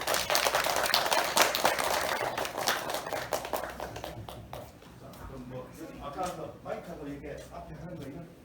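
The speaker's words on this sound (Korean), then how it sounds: "박수" Audience clapping welcomes a professor introduced to give a lecture on lessons from the Afghan situation for unification policy. The clapping is dense and moderately close for about four seconds, then thins into scattered claps as a voice begins speaking.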